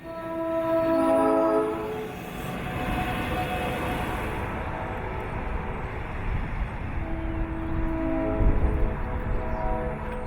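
A South Shore electroliner train runs down the middle of a street in Michigan City, a low steady rumble that swells and rolls past, with a tonal horn-like hum near the start and again later.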